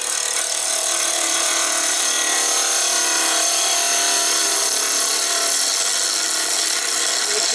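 A wood lathe turns a banksia pod while a tool cuts into it, giving a continuous, steady, hissing scrape close by with no pauses.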